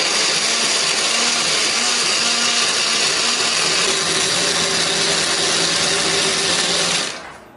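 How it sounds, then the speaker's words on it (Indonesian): An electric blender grinds spice paste of candlenut and oil in a home kitchen, a loud continuous high-pitched whir that holds steady for about seven seconds before the motor cuts off and winds down. "Untuk menghaluskan di sini aku pakai blender, beri sedikit minyak ataupun air biar lebih gampang untuk menghaluskannya."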